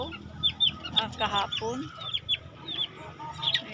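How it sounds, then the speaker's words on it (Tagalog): Several chickens clucking nearby in a yard, a scatter of short clucks and squawks, close and moderately loud, with a person speaking briefly over them. "Yan, manok."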